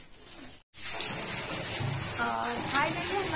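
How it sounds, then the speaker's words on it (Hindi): Water from a borewell pours out and falls, a continuous splashing gush that stays close and fairly loud after a brief cut, with no voices. "हमारी बोर को पानी आ रहा है और यहाँ पे और भी पानी गिर रहा है"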